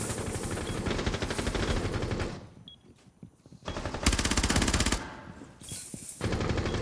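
Rapid P90 gunfire from a shooter video game, fired in long automatic bursts with short pauses between them, loud and close with nobody talking.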